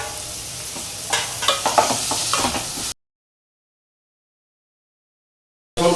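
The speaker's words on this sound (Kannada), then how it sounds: "ಒಗ್ಗರಣೆ ಸೊಪ್ಪು ಹಾಕಿದ ಮೇಲೆ ಈರುಳ್ಳಿ ಹಾಕಿದ್ದೀನಿ" Chopped onion sizzles in hot tempering oil with curry leaves while being stirred, giving a crackling fry for about three seconds before a silent gap and a brief return of the sound at the end.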